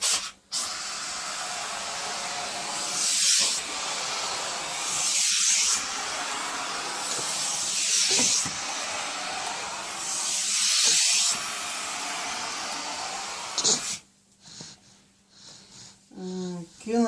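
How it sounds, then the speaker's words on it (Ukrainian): Repeated bursts of loud steam hissing from a Thomas Vaporo Smiley steam cleaner that also spits water, each a few seconds long with pauses between, ending with quieter sputtering. "Та така пара є. Але знову ж таки водою так само плюється."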